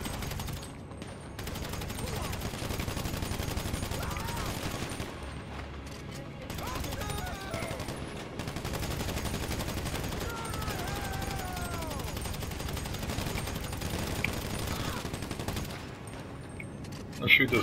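Gunfire from GTA Online runs continuously through a busy shootout, with rapid bursts and scattered shots layered under several players talking, ending in a louder burst.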